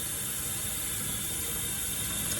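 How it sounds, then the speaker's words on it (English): Water running and draining from the top section of an air fryer in a kitchen sink, a steady close hiss and splash that carries on without a break. "let me let this water drain out of this thing. This is for my air fryer top thing."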